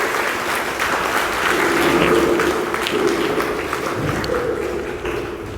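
Loud, continuous applause from an audience at a ceremony in Kanchipuram honouring successful candidates of a 2023 Group II exam, a steady wash of clapping for several seconds without speech.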